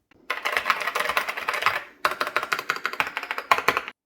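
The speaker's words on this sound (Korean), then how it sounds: "요거는 4만원짜리 하우징에 미드나잇이라는 기계식 스위치를 넣은 키보드의 소리인데요" A mechanical keyboard with Midnight switches in an inexpensive housing is typed on in two quick bursts, crisp clacking keystrokes close up with a brief pause between runs and no talking.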